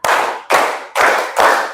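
A class of schoolchildren claps in unison on a counted beat, four sharp, loud group claps spaced about half a second apart, each with a quick decay.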